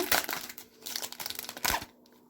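A foil pack of Lego Star Wars cards is torn open, a close burst of crinkling and ripping in several quick rustling bursts before it falls quiet.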